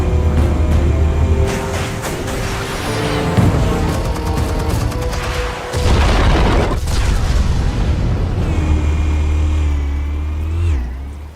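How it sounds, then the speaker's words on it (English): Explosives detonating in the Batman Telltale Series video game: heavy booms and rumbling blasts over a running car-like engine drone and some metallic debris. "Explosives armed. Fire when ready."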